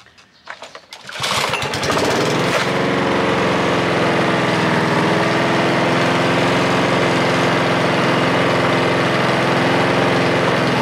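A small lawn mower engine starts up after a brief rough stutter, then runs steadily and loudly at a constant idle-like drone, close by and alone.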